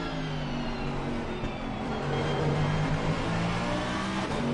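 Race cars accelerate at Snetterton circuit after exiting Palmer, one car having struck a bollard. Several engines drone and rise together at steady, loud volume, with whining harmonic tones climbing throughout and no voices.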